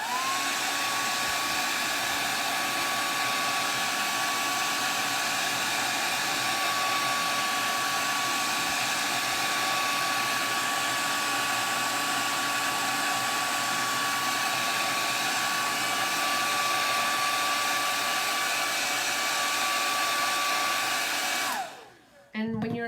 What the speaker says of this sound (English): blow dryer, because we're layering, we want to make sure that all of our layers are super dry